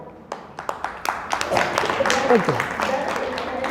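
An audience claps at a speech, starting as scattered separate claps that quickly swell into dense applause, with a voice speaking over it.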